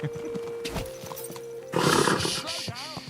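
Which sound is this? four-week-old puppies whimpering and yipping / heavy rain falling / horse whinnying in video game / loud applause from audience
horse whinnying in video game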